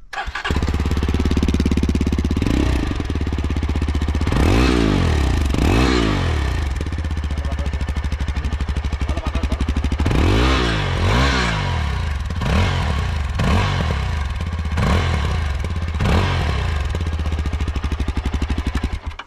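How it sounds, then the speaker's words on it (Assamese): A 4-stroke, liquid-cooled, single-cylinder motorcycle engine burbles at a steady, loud idle up close, with several sharp throttle blips rising and falling throughout. No one speaks. "আপোনালোকক এক্সজস্ট সাউন্ডটো শুনাই দিছো অলপ"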